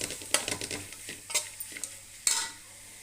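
Raw mango pieces frying for mango rice: a quick run of spoon scrapes and taps against the pan over a faint sizzle, close by, with a sharper clink near the end.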